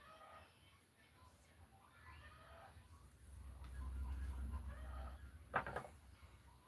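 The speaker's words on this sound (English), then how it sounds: "one of my chickens laid an egg, and she wants to tell everyone." A hen clucking loudly after laying an egg, a burst of excited cackles rising over a low rumble and background murmur, with one sharp loud squawk near the end.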